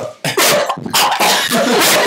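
A frantic dog barks and yelps in loud, rapid bursts while wearing a bark collar, its harsh, hoarse cries filling a short, close stretch with brief gaps between outbursts.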